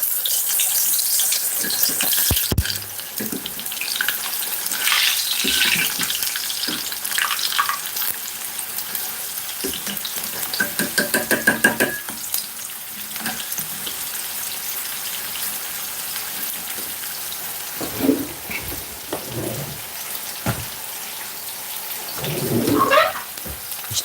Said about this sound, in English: I'm just going to fry them in this and release them a bit